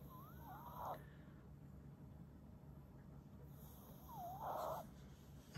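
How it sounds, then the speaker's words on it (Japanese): A Yorkshire terrier snores softly while asleep indoors, two drawn-out wheezy snores spaced a few seconds apart against a quiet room. "いびきかいてるね。"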